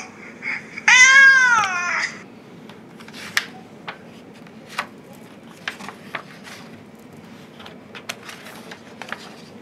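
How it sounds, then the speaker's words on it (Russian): A cat gives one clear, drawn-out meow early on, followed by scattered faint clicks and ticks against a quiet background with no talking. "Как мяукает кошка?"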